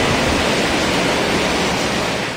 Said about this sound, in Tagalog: Ganito kalakas ang ragasan ng tubig kagabi sa Narciso Ramos Highway sa Lanao del Sur.